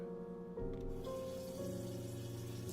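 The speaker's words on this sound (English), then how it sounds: "The sound of water flowing in the bathroom reminded me I hadn't taken a shower in 2 days." Water running steadily in a bathroom in the video game A Light in the Dark, a continuous faucet-like flow heard close and alone, with low background music underneath.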